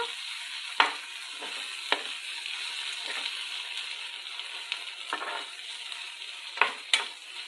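Tomato pieces fry in a pan over a medium flame with a steady, close hiss, broken by several sharp clinks and scrapes of a spoon stirring.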